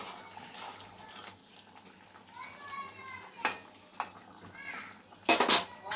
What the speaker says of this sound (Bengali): আমি এবারে ঢেকে দিলাম।